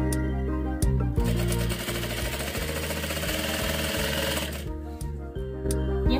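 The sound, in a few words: sewing machine stitching a fabric strap for a bow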